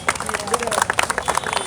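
A small outdoor group on a heritage walk claps at a historic site honouring Savitribai Phule's first girls' school. The claps are loose, uneven and scattered, with crowd murmur around them.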